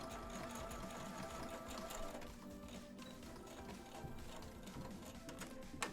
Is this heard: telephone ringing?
no